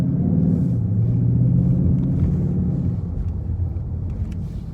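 A Ford Mustang GT does a burnout to clean its tires: a loud, sustained low engine roar with a steady rumble that holds for several seconds, then eases slightly toward the end.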